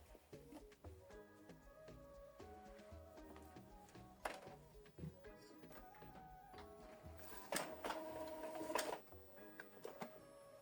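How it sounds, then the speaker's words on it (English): Epson EcoTank inkjet printer running off a network status report, with a steady mechanical whir, repeated ticks and thunks of the print head and paper feed, and louder feed clunks near the end. "So it's now printing out network status report."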